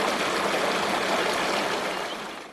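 Creek water flows steadily over rocks along a gold-prospecting stream, a close, continuous broadband rush that fades slightly toward the end, with no voices.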